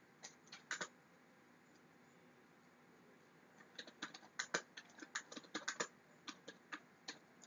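Quiet typing on a computer keyboard: a few scattered key clicks early on, then a steadier run of light, close taps in irregular rhythm over a faint room hiss.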